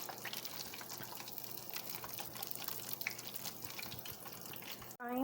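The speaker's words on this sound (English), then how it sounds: "So we're pretty much gonna let these fry until they get crispy." Homemade tortilla chips frying in oil, a steady dense crackle and hiss that holds throughout, with a brief clatter right at the end.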